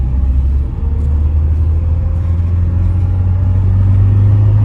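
A classic Ford Sierra's engine on a test drive, a low steady idle-like rumble running continuously inside the car, fairly loud, with no talk over it.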